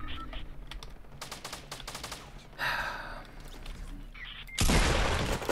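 Gunfire cracks and bursts in Fortnite Battle Royale Season 4, with rapid shots and a loud blast near the end, heard alone without talk.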